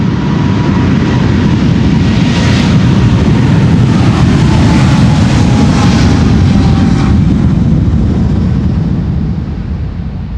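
KLM jet airliner on its takeoff roll and climb-out from Schiphol's Polderbaan runway on flight 743 to Lima, a loud, continuous, close engine roar with deep rumbling thrust that holds for the whole stretch.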